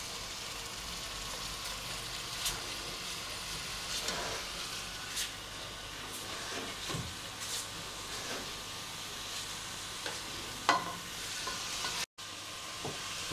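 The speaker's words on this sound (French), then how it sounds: "Donc je fais revenir ma viande dans la casserole." Steady sizzling and crackling of meat frying in hot oil in a pan, with occasional stirring scrapes and pops, close and continuous throughout.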